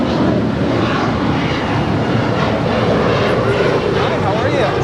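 A jet airliner takes off from runway 25 right at LAX, a loud, continuous roar of engines filling the air, with a voice talking over it.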